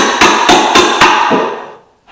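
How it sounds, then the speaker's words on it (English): A hammer strikes hardwood flooring during installation, four sharp, evenly spaced loud bangs ringing out close by, followed by a fading decay and a final faint knock. "Oh yeah, it's a hammer."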